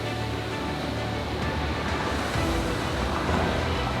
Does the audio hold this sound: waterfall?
yes